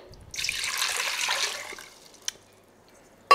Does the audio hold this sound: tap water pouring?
yes